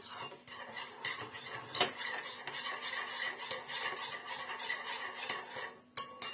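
A spoon clinks and scrapes continuously around a bowl, mixing a marinade for tomatoes in a steady stirring rhythm, close and moderately quiet, ending with a sharper knock.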